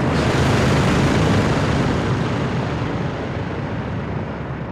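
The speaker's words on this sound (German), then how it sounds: "Ein Heli ist im Anflug." Helicopter approaching in Call of Duty: Modern Warfare II, a loud, dense rotor-and-engine roar that fills the whole clip and eases slightly toward the end, with no talk over it.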